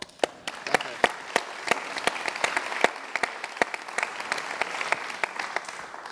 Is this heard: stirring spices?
no